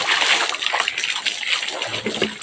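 Someone bathing at a waterfall sets off close, uneven splashes and sloshes over a constant rush of falling water, with no voices.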